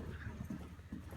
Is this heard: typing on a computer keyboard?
no